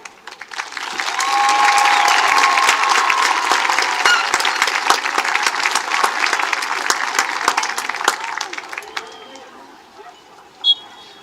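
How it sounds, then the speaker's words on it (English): A crowd at a high school football game applauds steadily on the Cougars' home field during a tribute to military veterans, a dense wash of clapping that swells, holds for several seconds and then thins out, with scattered cheers. "let us give a loud Cougar welcome and heartfelt round of applause for our heroes past and present"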